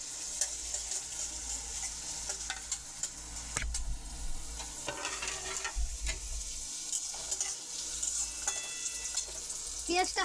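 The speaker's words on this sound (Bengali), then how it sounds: "তেলটা আমার গরম হয়ে গেছে। পেঁয়াজ কোচানোগুলো দিয়ে দেবো।" Chopped onions fry in hot oil for an egg dabeli with chicken keema, giving a steady close sizzle with intermittent scraping and stirring clicks and a few sharper clacks of a spoon against the pan.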